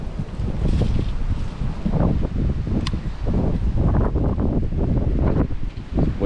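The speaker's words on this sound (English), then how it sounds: "Windy out here." Strong gusty wind buffets the microphone at a lake during bass fishing, a loud continuous rumble with rustling, and no speech.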